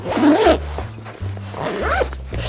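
A zipper is pulled shut on a packing bag pressed flat to squeeze out the air, here a bag holding a swimsuit, workout wear and a dress. It makes short scratchy zips close by, amid rustling handling noise.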